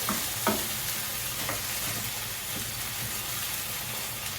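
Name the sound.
stirring canned tomatoes in a frying pan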